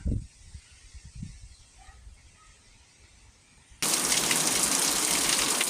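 Light rain begins falling outdoors over a rural garden: soft patters and a few faint thuds at first, then a sudden, steady hiss of rain on surfaces that carries on to the end.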